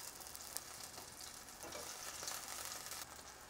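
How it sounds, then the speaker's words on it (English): Onions sautéing in shimmering hot oil in a pan, lightly salted, for beef bourguignon: a steady, even sizzle with a faint crackle, close and continuous with no voices. "once the oil in the pan starts to shimmer, we can go ahead and put in the onions. And we will just saute these"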